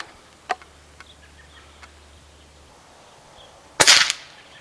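Air Venturi Avenger .25 caliber air rifle firing an H&N hollow-point slug at a 50-yard target, giving one loud, sharp crack near the end, with a couple of faint ticks before it and no talk.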